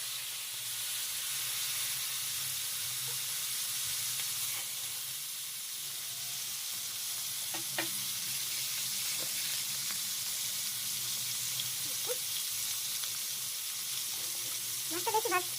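Whole fish fries in hot oil in a wok, a steady close hiss and sizzle with a few faint clinks and pops, and no talking.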